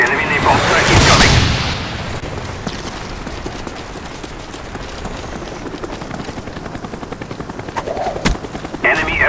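A Cobra attack helicopter in a video game: loud thudding rotor wash that swells up close and then fades to a lower rumble, with scattered booms and gunfire-like cracks of battle around it.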